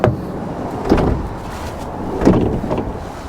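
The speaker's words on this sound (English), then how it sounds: "So sliding doors," The sliding door of an Opel Vivaro-e electric van rumbles along its track with a couple of thuds and scrapes, close by and fairly quiet.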